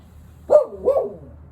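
A pet dog gives two quick barks in succession, loud and close, with a short tail of quiet after.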